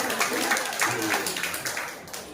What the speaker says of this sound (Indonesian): untuk paruh waktu juga harus tepuk tangan.